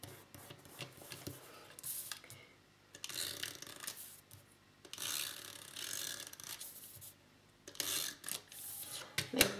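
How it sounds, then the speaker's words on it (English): A small roller tool rubs and presses tape down onto a pocket planner page, giving quiet, uneven bursts of scratchy rolling and rubbing with short pauses between passes. "I'm gonna take my trusty little roller cloth friend."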